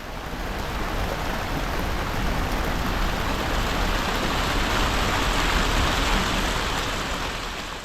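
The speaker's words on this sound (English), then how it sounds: "soon it started to rain sideways" Heavy rain driven sideways by strong wind during a cyclone, a dense, steady roar of hissing downpour that stays loud and unbroken throughout, with no voices.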